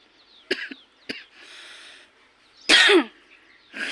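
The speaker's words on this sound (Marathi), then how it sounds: "खोकला तर लागतोय." A person coughs several times up close, sharp separate bursts followed by a longer, rougher throat-clearing cough, with quiet pauses in between.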